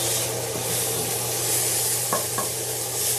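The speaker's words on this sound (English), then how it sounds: "Let the bacon cook up." Bacon sizzles steadily in a pan beside cooking onions, a dense continuous crackling hiss with a steady low hum beneath and two brief clinks or scrapes near the end, no voices.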